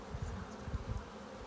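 Honeybees in an opened hive on a cold day drone in a dense, steady buzz, close and continuous, with small swells of wingbeat throughout.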